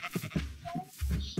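Sheep bleating in Minecraft, a few short nasal calls spaced across a brief stretch with a low game hum underneath, fairly close and moderately loud.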